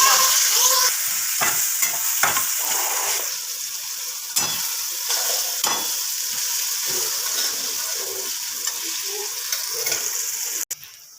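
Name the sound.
onion and tomato frying in pan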